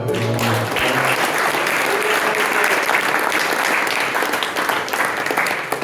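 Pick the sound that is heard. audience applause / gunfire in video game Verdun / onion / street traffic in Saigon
audience applause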